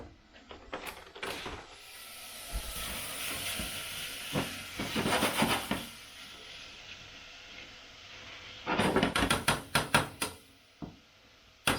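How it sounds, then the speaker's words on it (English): Onions and garlic sizzle in a hot pan, a steady hiss with crackling bursts that swell and fade, loudest near the start, middle and end, with no talk. "those onions and garlic are sizzling away in there."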